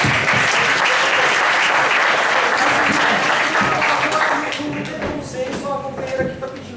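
An audience at a state water assembly in Itu bursts into loud, dense applause that tapers off after a few seconds, giving way to talk and scattered claps.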